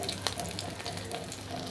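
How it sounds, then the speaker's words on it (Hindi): Chapli kebabs frying in hot oil on a lowered flame, a steady close sizzle with faint crackles and a brief louder pop, no talk. "ऑयल हमारा बिल्कुल गरम हो गया है। अब हम इसमें कबाब डालेंगे फ्राई करके।"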